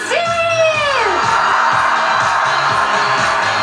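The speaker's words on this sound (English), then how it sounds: "Let's give some holiday cheer to" A Miss Universe 2012 audience cheers for Miss Brazil: a loud crowd roar with whoops and yells swells under a host's voice that rises and trails off, then the cheering carries on steadily.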